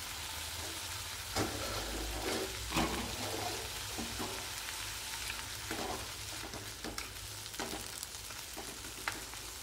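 Shrimp and pineapple stir-frying in a pan make a steady wet sizzle, broken by louder bursts of scraping and stirring, close and continuous with no voices.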